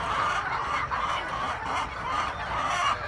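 A flock of laying hens clucks inside a poultry shed, a dense continuous chorus of overlapping murmuring clucks at moderate loudness, with no talking.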